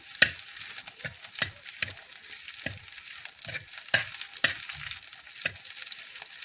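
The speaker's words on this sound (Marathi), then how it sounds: "जिरा लसूण आणि हिरवी मिरची यांची मस्त अशी फोडणी करून घेणार आहेत आपण" Cumin, garlic and green chilli tempering in hot oil, a steady close sizzle with sharp crackling pops and spoon stirs recurring every second or so; no voices.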